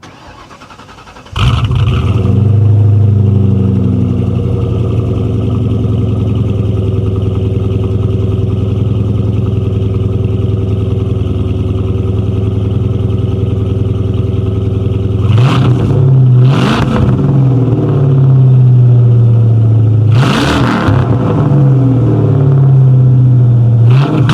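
A 1997 Ford Mustang GT V8 fires up after a brief crank and settles into a loud, steady idle, then revs sharply twice with a pause between, close up and with no talk.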